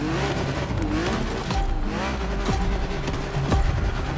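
A BMW 3.0 CSL races in The Crew Motorfest video game, its engine note loud and continuous with rising and falling revs and gear changes repeating about once per second, tires faintly squealing.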